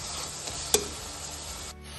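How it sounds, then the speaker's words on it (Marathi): Soya chunks with green masala sautéing in oil over a low flame, a faint steady sizzle with one brief scrape of stirring. "अजून 1 ते 2 मिनटं छान असंच परतून घेऊया बारीक फ्लेमवर"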